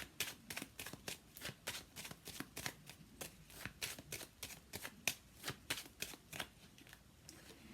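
Tarot cards being shuffled in a steady run of about twenty crisp riffling bursts, close and fairly quiet, with no voices.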